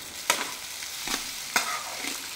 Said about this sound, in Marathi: आता आपण पोहे टाकून घेऊया